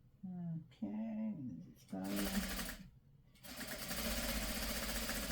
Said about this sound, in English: I'm following the line on my sewing machine